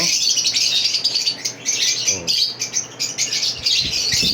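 Birds chirp and twitter in an aviary with bright, busy calls throughout and occasional wing flaps, while a person talks in the background.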